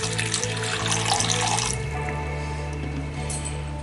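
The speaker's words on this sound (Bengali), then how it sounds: "1 কাপ মতো জল দেব।" About one cup of water is poured into a bowl in a kitchen, a close continuous splashing stream that settles into a steadier, lower trickle, with no one speaking.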